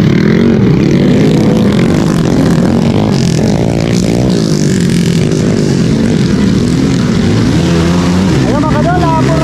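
Motorcycles racing laps in an open-category flat race at Barangay Bobon, Burauen, Leyte, with loud engine drone and rising revs under continuous excited commentary over a loudspeaker.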